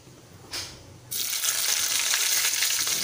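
Onion and okra frying in hot oil with mustard seeds, fenugreek and curry leaves in a pan, a brief hiss followed by a steady loud sizzle once the vegetables go in, no voices.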